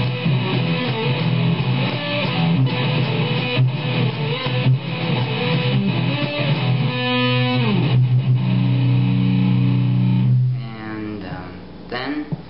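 Distorted electric guitar riff from a rock song, played loud and sustained with chugging low notes and a sliding phrase up the neck, fading out near the end.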